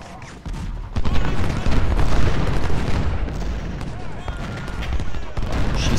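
Civil War cannons fire in Ultimate General, a loud boom kicking in after half a second and continuing as rolling, crackling battle noise, with someone speaking over it.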